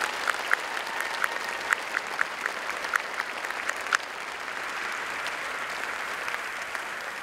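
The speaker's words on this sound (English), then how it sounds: "let's again applaud all of our recipients of our award." Audience at a nurse pinning ceremony applauds award recipients, a broad, even wash of clapping with a few sharper cheers or whistles early on before it thins slightly.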